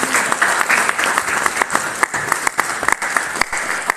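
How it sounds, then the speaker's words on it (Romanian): An audience applauds at a gathering honouring elderly performers after a recital, a dense steady round of many hands clapping, close and lively for the whole stretch. "dați să-i aplaudăm"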